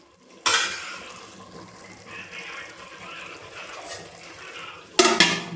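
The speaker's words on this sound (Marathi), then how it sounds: "आता आपण हे 2-4 वेळेस चांगलं स्वच्छ पाण्याने धुवून घेऊन मग याच्यात टाकू" Rice is washed with water in a pot in a home kitchen: a sharp clatter and splash open it, soft swishing and sloshing follow, and a second loud splash and clank lands near the end.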